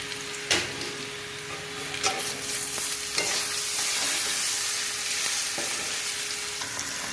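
Potato pieces fry in a pan with poppy seeds, a continuous close sizzle broken by several sharp clinks and scrapes of a utensil stirring, no talking.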